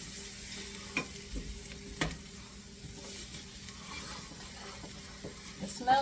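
Mushrooms and onions sizzle softly in a pan on a flame while a utensil stirs them, giving a few faint knocks and scrapes over a quiet background hiss.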